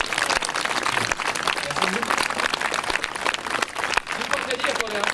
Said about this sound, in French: Je voulais bien applaudir mes élèves.